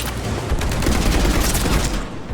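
Sustained automatic fire from a mounted gun in the video game Mass Effect 3, loud and dense, a continuous roaring rattle of rapid shots that fills the whole stretch without a break.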